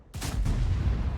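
A tank main gun fires in World of Tanks: one sharp, close, loud blast followed by a long, heavy rumbling decay, with no voices.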